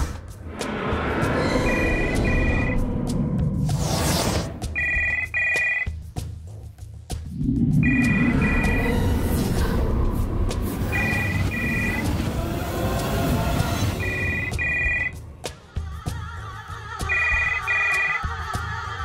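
A phone ringtone sounds as repeated pairs of bright electronic beeps every few seconds, over loud, busy background noise.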